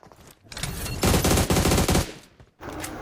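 Rapid automatic gunfire in the mobile battle royale game BGMI (PUBG Mobile), close and loud, two dense bursts of shots with a brief pause between, the second burst fiercest, no talk over it.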